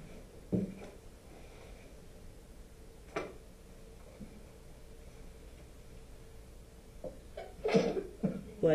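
A single sharp sneeze bursts out near the end of a quiet classroom lesson, with a few faint coughs or clicks earlier.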